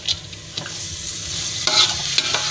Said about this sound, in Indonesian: Kita masukkan, kita campurkan, lalu kita aduk kembali.